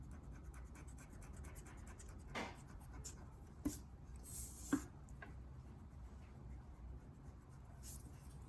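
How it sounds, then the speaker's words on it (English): Faint pencil strokes on paper while lines of a building are drawn, soft scratchy sweeps with a few sharper taps, quiet and close over a low steady hiss. "So I gotta draw the other part of this building."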